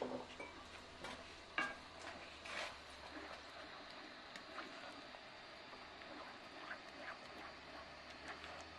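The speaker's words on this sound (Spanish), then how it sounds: "Removemos hasta que el queso se haya fundido totalmente." Cheddar, gruyère and parmesan being stirred as they melt in a pan, with faint, scattered soft scrapes and clinks over a low, steady background hiss, one slightly louder knock near the start.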